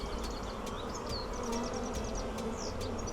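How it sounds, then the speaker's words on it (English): Honey bees buzz inside a crowded hive, a dense, steady close drone with individual bees whining past now and then. "There's a lot of bees in here."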